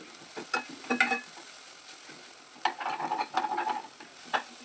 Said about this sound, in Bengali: ডালটাকে আমি হালকা করে ভেজে নিচ্ছি